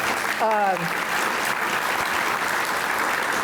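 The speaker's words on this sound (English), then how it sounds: "So I want to give her a round of applause." A luncheon audience at a housing program event gives a round of applause, broad steady clapping that fills the whole stretch, with a brief voice at the start.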